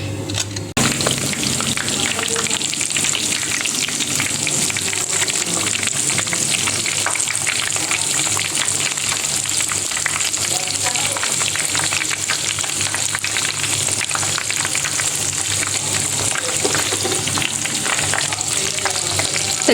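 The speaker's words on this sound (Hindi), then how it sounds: "10 मिनट हम इस तरह फ्राई करेंगे, फिर पलट के दोबारा फ्राई करेंगे।" Chicken chargha, a whole spiced Lahori-style chicken, frying in hot oil with a loud, continuous dense sizzle and crackle that holds steady throughout, close and unbroken.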